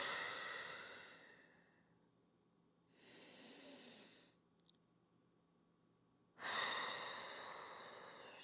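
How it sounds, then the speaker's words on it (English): A person exhales deeply during a slow stretch, with soft breathy rushes of air separated by quiet pauses, the last breath louder and fuller. "Deep breath out."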